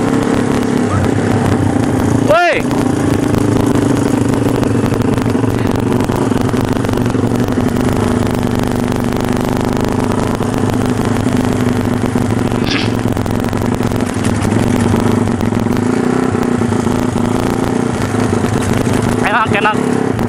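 A Yamaha Scorpio bobber motorcycle rumbles continuously on a night test ride, its loud, steady engine drone close up with wind noise and a brief exclamation from the rider.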